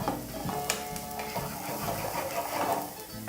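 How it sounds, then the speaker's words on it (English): Vegetables being stirred with a spoon in a sizzling pan while preparing Swahili mbaazi wa nazi, steady frying hiss with scraping and clinking spoon strokes throughout. "I'm now just going to use a spoon to give that a mix."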